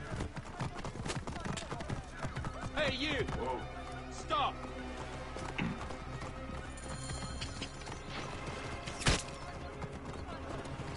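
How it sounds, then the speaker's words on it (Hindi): Horse galloping in Assassin's Creed Origins, steady clip-clop hoofbeats running throughout with an occasional whinny, heard under a player's talk and game sounds. "घोड़े को देखो बेंचे कितना सही दौड़ रहा है"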